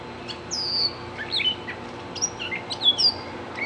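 Small birds chirp and tweet outdoors in a backyard, a string of bright, short calls repeating at moderate distance over a steady low background hum.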